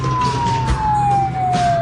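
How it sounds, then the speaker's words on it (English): A siren from a pursuing police vehicle is touched briefly in a radio-drama chase, a steady high wail that slides slowly downward over a low engine drone. "Give him a touch of the siren."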